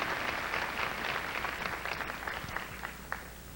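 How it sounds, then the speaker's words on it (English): An audience at the 1994 Miss Kentucky Pageant applauds the local directors, a broad, steady wash of clapping heard at a distance, fading slightly toward the end. "Big round of applause for those people."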